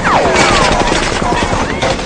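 Machine-gun fire rattles through an action movie battle scene, dense loud bursts filling the whole moment, with faint voices underneath.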